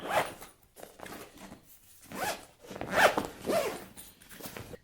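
A bag's zipper is run back and forth several times in short rasping strokes, close and clear, with brief pauses between pulls and no talking.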